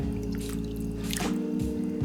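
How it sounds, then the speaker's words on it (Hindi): About 200 millilitres of water is poured into a pot of homemade tomato soup, giving a close, soft trickling and splashing over a steady low background hum, with no talking. "200 मिलीलीटर पानी डाल लेते हैं"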